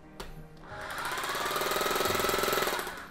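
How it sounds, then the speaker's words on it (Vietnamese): A Makita rotary hammer drills into concrete, starting with a short burst and then settling into a loud, steady, fast hammering rattle for about three seconds, heard alone with no voices. "Một chức năng duy nhất chuyên dụng khoan bê tông"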